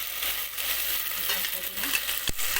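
Tomato with ginger garlic paste fries in a pan for a chicken and okra curry, a steady close sizzle with soft stirring scrapes and one sharp knock near the end.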